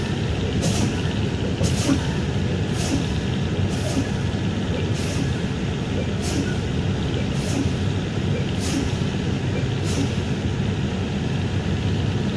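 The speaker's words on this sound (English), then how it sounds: "I'm going to fan my brakes." Air brakes on a Knight Transportation truck fanned during a cab inspection, heard as about ten regular short hissing bursts roughly once a second over a steady low engine rumble, close and fairly loud.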